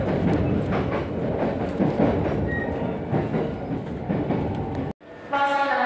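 A JR train rolls along the rails in Japan, a loud steady rumble with rhythmic clickety-clack from the wheels, cut by a brief gap before a quieter stretch with a faint tonal whine.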